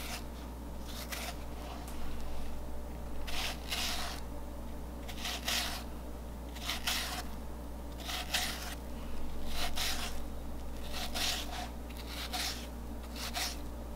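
A knife sawing through a honeydew or cantaloupe melon, close rasping strokes repeating in regular bursts roughly every second over a steady low hum.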